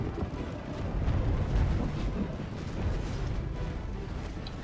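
Siege units fire in a Total War: Third Age Reforged battle, a dense rumbling wash of booms and distant impacts, loud and continuous in low register with no clear talking.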